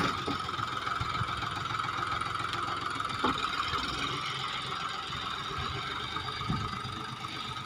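A John Deere 5050D tractor plows a field with a disc plow, its diesel engine giving a steady, loud, continuous drone with faint mechanical rattles throughout.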